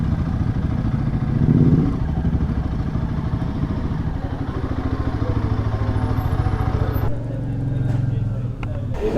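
A Royal Enfield Himalayan 450 motorcycle being ridden, its steady engine drone mixed with road and wind rumble, swelling briefly early on and shifting in tone near the end.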